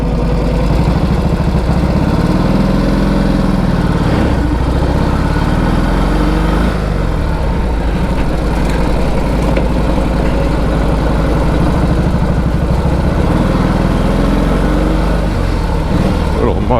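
A 1946 Indian Chief motorcycle engine runs continuously close by, a loud low throbbing idle with slight rises and dips in revs.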